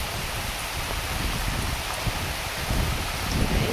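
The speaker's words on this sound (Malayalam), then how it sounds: "നല്ല മഴയാണ് മക്കളെ, നല്ല മഴ, അടിപൊളി മഴ" Heavy rain pouring steadily during a windy storm, a dense, even hiss of water on surfaces with no voices, loud and constant throughout.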